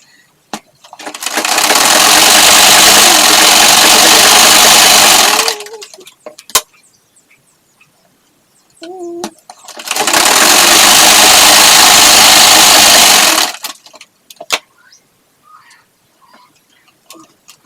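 A sewing machine stitches fabric for a two-piece outfit in two steady, loud runs of about four seconds each, separated by quiet pauses with small handling clicks and taps.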